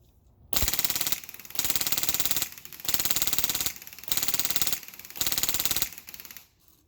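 PolarStar Jack airsoft engine firing full auto, five rapid rattling bursts of about a second each separated by short gaps, loud and close with no talk.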